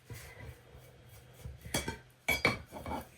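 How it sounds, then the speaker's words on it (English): Dough being scraped from a mixing bowl while making whole grain cereal bread, heard as soft close scrapes and a few sharper clinks of a utensil against the bowl, building toward the end with no talking. "Scrape it out really good."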